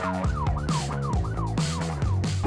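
A police siren wails close by, its pitch sweeping up and down in a fast repeating cycle, loud and continuous.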